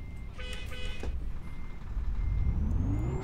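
Reversing beeps from a truck in Euro Truck Simulator 2 with the ProMod mod, a short run of evenly spaced tones over a steady engine rumble, followed by a rising engine whine as the rig moves.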